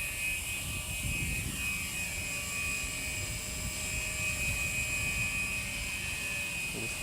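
A small radio-controlled Walkera 4F200LM helicopter whines steadily with a high buzzing rotor tone and constant mechanical hum, sustained and fairly close, with no talking.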